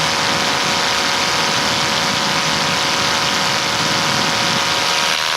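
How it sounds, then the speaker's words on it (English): A foot-launched paramotor engine running in flight during a long cross-country triangle, a loud continuous drone with steady tonal hum and wind noise, no voices. "so my engine must not be running as efficiently as it should be"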